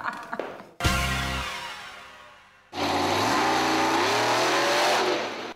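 A monster truck at a car show in Riga revs its engine hard in two loud bursts, a rising roar that fades away, then a second sustained surge with the pitch climbing, after some faint clicks.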